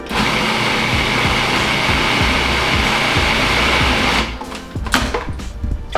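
Food processor motor whirring loudly and steadily while blending cranberry sauce, then cutting off near the end, leaving brief clatter and handling noises.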